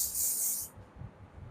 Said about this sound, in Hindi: हेयर स्प्रे लगाया